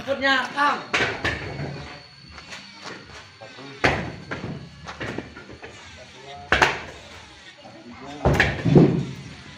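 Coconuts being loaded onto an L300 pickup truck at a coconut supplier's warehouse in Lampung, heard as irregular loud thuds and knocks scattered through the clip, mixed with people talking nearby.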